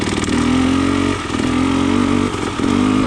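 A KTM 300 XC TPI two-stroke dirt bike with a low-compression head insert chugs along in third gear, a loud close engine drone with steady pulsing and brief dips as the throttle eases and returns.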